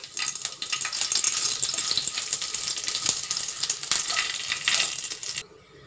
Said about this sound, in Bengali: আলু ভাজার ওই তেলটাতে আমি দিয়ে দেবো ফোড়ন, গোটা জিরে,